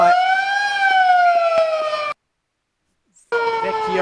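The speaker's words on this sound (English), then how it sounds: "the siren goes for three-quarter time" A loud stadium siren sounds a steady, slightly wavering tone for three-quarter time at a women's Australian rules football match, South Fremantle against East Fremantle, cutting out after about two seconds and then resuming after a brief silence.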